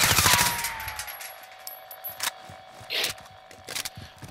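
Gunfire in the Warzone video game, with a rapid burst of automatic shots at the start followed by scattered single shots and clatter, fairly loud and without talk.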